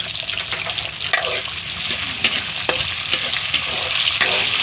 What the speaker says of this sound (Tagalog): Susubukan po natin magluto ng buto ng rambutan.